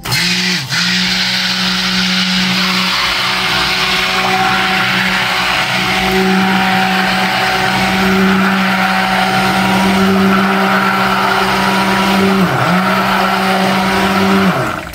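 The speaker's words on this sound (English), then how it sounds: "Now we're going to blend with the stick blender." A stick blender whirs steadily and loudly throughout while mixing soap, its motor pitch dipping briefly once or twice as it works through thick liquid.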